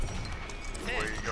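A horse mount gallops in the hero shooter Paladins during a competitive match, its quick clip-clop hoofbeats running steadily through the short burst amid busy game noise.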